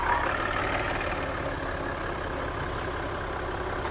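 A 3.0 S car engine idles roughly, a steady close drone with a faint rhythmic knocking running through it, with no voices.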